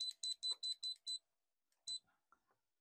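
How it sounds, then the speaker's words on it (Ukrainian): A soldering station set to 400 degrees beeps six times in a quick, even series, falls silent briefly, then gives one more beep followed by a few faint clicks. "Обов'язково пікати, коли я паяю"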